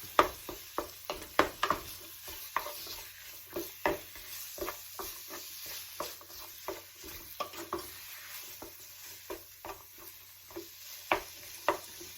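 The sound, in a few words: breaking up ground meat in a frying pan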